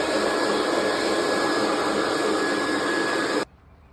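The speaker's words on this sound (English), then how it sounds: "There's some little pieces that I'm gonna deal with by using the blower." An electric blower blasts loose hair off a brain-tanned, fur-on hide in a loud, steady, close-up roar that cuts off suddenly just before the end, with no voices.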